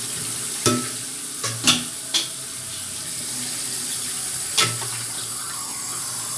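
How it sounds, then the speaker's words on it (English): Running water from a sink tap pours steadily over a vacuum cleaner pipe being washed, close and loud, with occasional knocks and clunks as the pipe is handled and no talking. "pressure pipe access here, that's why I'm washing it on the sink"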